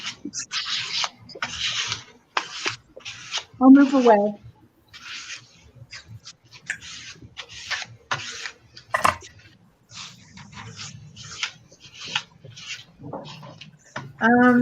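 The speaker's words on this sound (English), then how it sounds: "Somebody's sanding." Repeated rasping strokes in short bursts, like sanding, mixed in among people talking close by.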